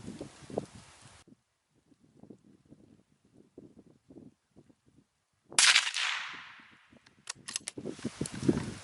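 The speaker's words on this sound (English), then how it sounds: "So that was 5 shots." Suppressed shots from a Ruger American rifle with a Sig suppressor, fired outdoors at a range: one sharp report with a long decaying tail, followed by a few quicker cracks, over wind noise and quiet rustling.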